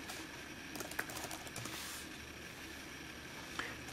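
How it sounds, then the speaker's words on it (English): Typing a terminal command and then a password on the keyboard of a Toshiba Chromebook 2, with steady close key clicks and a couple of sharper taps standing out, heard alone without talk. "I just type sudo apt-get install AbiWord, and then my password"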